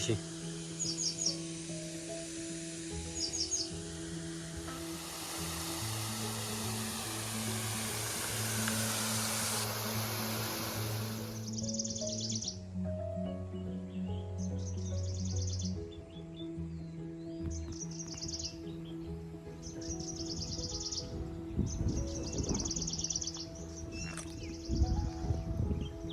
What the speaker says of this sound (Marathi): एका पक्ष्याचा आवाज येते